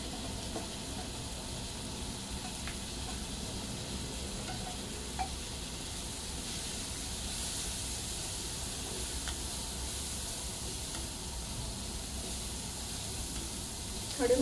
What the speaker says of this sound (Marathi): बारीक चिरलेला कांदा कांदा आपल्याला जर थोडा सोनेरी होईपर्यंत भाजून द्यायचा आहे